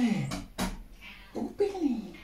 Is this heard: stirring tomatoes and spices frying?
no